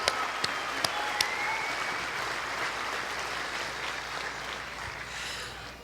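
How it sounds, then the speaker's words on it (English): Audience applause at an Air Force basic training coin and retreat ceremony, a steady broad wash of clapping from a large outdoor crowd throughout, with a few sharp clicks near the start. "let's give one more round of applause for the amazing military training instructors"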